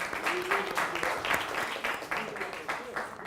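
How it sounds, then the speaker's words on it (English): A high school society gathering gives a round of applause: a dense, steady patter of many hands clapping throughout, with some voices mixed in. "if we could just give a round of applause for them serving us for the last 2 seasons"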